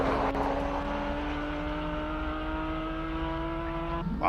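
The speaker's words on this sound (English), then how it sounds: "Wow, that Porsche sounds incredible." A Porsche 997 GT3 Cup race car at a hillclimb accelerates in the distance, its engine note climbing steadily in a clear, rising howl through a long pull, with faint background murmur.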